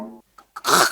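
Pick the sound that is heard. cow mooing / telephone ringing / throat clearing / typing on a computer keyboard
throat clearing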